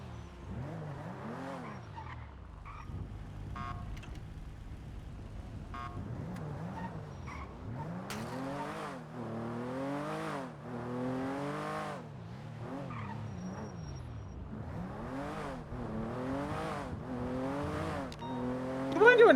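A car in the GTA-based NoPixel role-play game revs and skids repeatedly, with rising and falling engine whines and tire squeals throughout, fairly loud with some voices mixed in.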